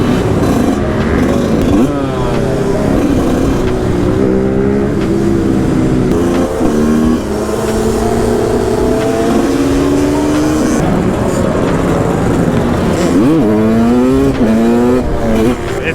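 A moped with a stock exhaust buzzes and revs among other machines in a big group rideout, the engine notes rising and falling repeatedly, loud and close.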